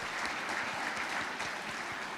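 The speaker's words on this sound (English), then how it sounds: "please join me in give Honorable President Gordon's a round of applause" A Rotary gathering's audience applauds for its president, a brief, steady wash of dense clapping at moderate distance, with no voices over it.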